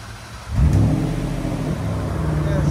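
A 2011 Land Rover LR4's 5.0-liter V8 with its muffler removed rumbles deep and loud, then a sudden throaty rev swells up close and settles into a heavy, rough idle.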